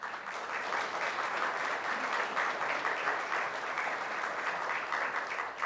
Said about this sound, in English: Let's give a nice round of applause